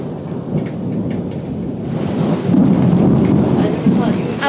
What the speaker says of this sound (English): Here's that rain again.